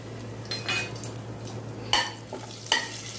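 Bay leaves hit hot oil in a pan while preparing mutton biryani, giving a soft sizzle with a few louder crackling bursts and light stirring clinks, close and fairly quiet.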